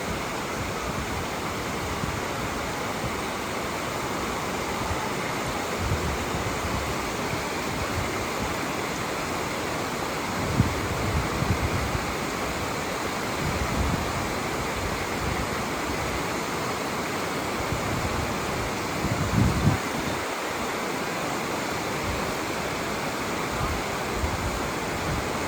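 Rushing water at Tallulah Gorge in northeast Georgia, a steady, loud roar of cascading whitewater that fills the whole stretch, with faint voices barely rising above it now and then.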